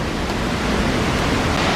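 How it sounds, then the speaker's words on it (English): Powerful waterfall at The Chute in the Catlins, New Zealand, a steady, loud, full roar of rushing water that holds constant throughout, with no voices. "Pretty powerful waterfall."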